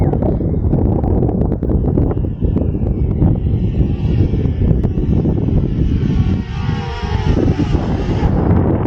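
Steady, heavy wind buffets the microphone in a continuous roar, with the faint droning motors of a FIMI X8 Mini V2 drone underneath throughout.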